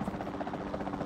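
A capture team helicopter in the video game Jurassic World Evolution 2 gives off a steady, rapid rotor thump with a low buzzing drone, moderately quiet and heard alone for about a second.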